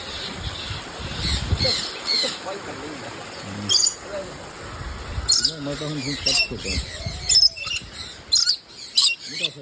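Swan on Madeira giving repeated harsh squawks and hoarse calls in short bursts, close by, with people talking over and between the cries.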